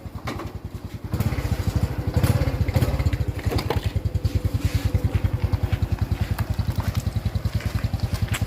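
A motorcycle ridden on a test ride, its engine ticking over in a fast, even chugging rhythm close by, growing louder after a quieter start and holding steady with no talk.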